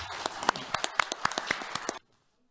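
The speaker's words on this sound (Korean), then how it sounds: "교수님께 박수 한번 보내시겠습니다" An audience applauds the panel and presenting professors at a Korean policy forum, a burst of dense, sharp hand claps lasting about two seconds before cutting off abruptly into silence.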